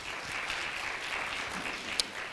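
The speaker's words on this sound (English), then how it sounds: "Give him a round of applause, guys." Audience applause for a panelist at a biodiversity economy and wildlife investment conference session, a steady dense patter of many hands clapping at moderate distance, fairly soft and continuous throughout.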